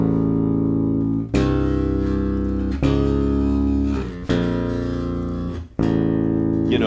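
Heavy, slow power chords played on a bass guitar, each sustained chord ringing full and loud for over a second before the next one strikes, four chords in a row with no talking.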